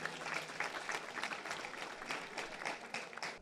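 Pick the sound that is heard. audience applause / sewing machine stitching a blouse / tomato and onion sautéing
audience applause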